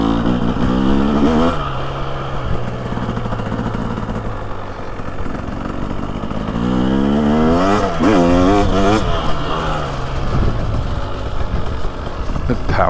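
A 2023 TX300 Heritage Edition two-stroke dirt bike rides through fall woods, its engine close and loud as it revs up and down repeatedly, with blips of throttle and shifting pitch over a steady run.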